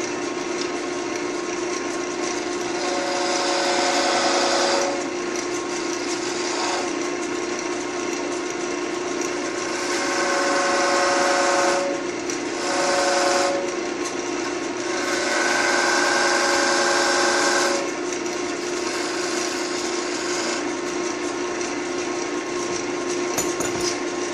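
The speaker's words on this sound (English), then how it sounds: "just a little groove in between these two and this end, and then burn it with the wire" Stainless steel safety wire is pulled back and forth to friction-burn a groove into wood, giving a steady rasping whir that swells in several louder bursts over a constant background hum. It is close, with no talking.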